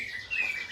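A white-rumped shama, still a young fledgling, gives a quick series of thin, high chirps, fairly close and clear over a faint background hush.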